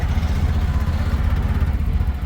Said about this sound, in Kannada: ಗೈಸ್ ನೋಡಿ ಬೈಕ್ನ ಹೊಂಟಿದ್ದೀವಿ ಫಾರಮಿಗೆ